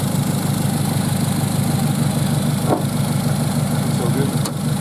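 A Toyota Hilux engine fitted with an exhaust resonator idles steadily and loudly at close range, with an even low drone and a couple of faint clicks, and no talking.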